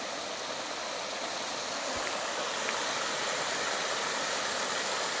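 A forest river in Ambabarwa wildlife sanctuary rushes steadily in a broad, continuous wash of flowing water, even and moderately loud, with no voices.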